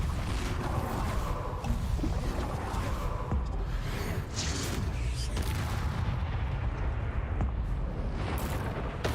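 Spell explosions from a Harry Potter-style video game, Confringo and Bombarda, rumble and boom loudly and without a break, layered in dense blasts, with a voice briefly heard underneath.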